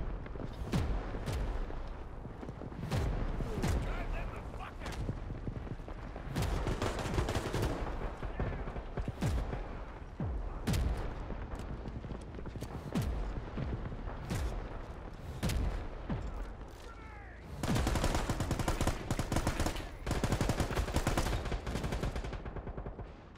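Rapid gunfire in the World War 3 shooter game, repeated loud bursts of automatic shots and heavier booms throughout, with a dense sustained volley near the end.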